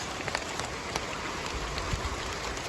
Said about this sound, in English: Getting some rain today.